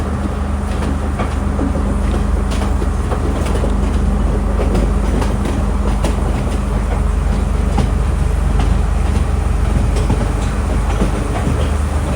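Inside a first class carriage on the Colombo to Kandy line in Sri Lanka, the train rumbles loudly and continuously, with a deep low roar and faint rhythmic clicks of wheels over rail joints, no voices.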